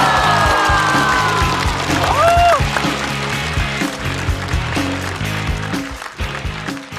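Studio audience applause and cheering greet actor Li Chengru as he takes the stage at a comedy roast show, a steady wash of clapping mixed with music and a brief rising whistle-like tone.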